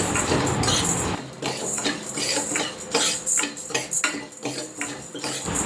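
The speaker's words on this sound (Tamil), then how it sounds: "பார்லியை நல்லா ரோஸ்ட் பண்ணி எடுத்துக்கிறேன்" About 50 grams of barley is roasted and stirred in a kadai, the spoon scraping the metal pan in repeated, rhythmic strokes with light grainy rattling, close and fairly steady.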